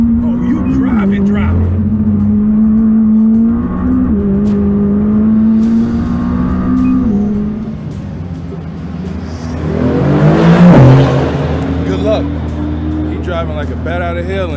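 A race car driving fast on a track, its engine a steady loud drone that surges near the end, heard under excited talk and shouting from people on board.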